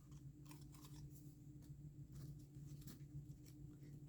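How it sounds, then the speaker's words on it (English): Quiet, repeated snipping of scissors cutting through material, several crisp cuts spaced irregularly over a low background hum. "I don't know where my small scissors went, so we're going to use these big honking ones."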